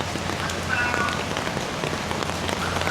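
Rain falls steadily in Da Nang, a close, dense patter of drops striking surfaces, likely an umbrella, continuous and even in loudness with no voices.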